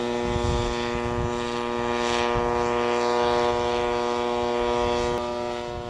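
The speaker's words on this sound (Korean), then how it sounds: "공중에서는 비행기처럼 빠르게 날아가는 스마트 무인기다." A Korean-built tilt-rotor unmanned aerial vehicle flies overhead, its steady propeller buzz holding strong tonal harmonics and swelling slightly as it passes, loud and continuous with no voices.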